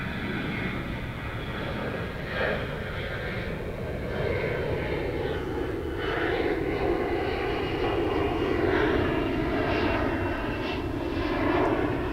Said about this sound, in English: we'll bring you the arrival of a Delta plane